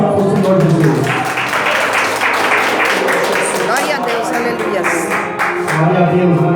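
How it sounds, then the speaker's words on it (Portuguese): A church congregation applauding together, a dense, steady wash of clapping that fills the space throughout, with voices mixed in underneath. "e as palmas são do Senhor Jesus"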